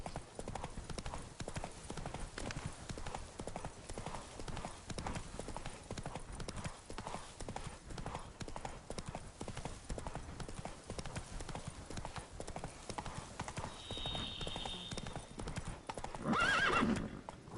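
Horse galloping in The Witcher 3, a fast, continuous clip-clop of hooves at moderate level, ending with a sharp whinny near the close.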